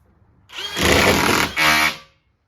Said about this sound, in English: we're gonna try countersinking a screw into an actual stud this time